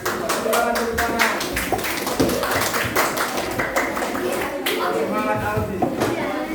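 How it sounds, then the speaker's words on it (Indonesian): A classroom of students claps in quick, rhythmic bursts, with voices calling out over the applause. "Silakan tepuk tangan."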